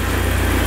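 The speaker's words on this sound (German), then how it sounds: "Ich würde sagen, machen wir den Motor mal wieder aus." A BMW E36 car engine idles steadily at close range with a low, even hum, running alone for under a second before being switched off.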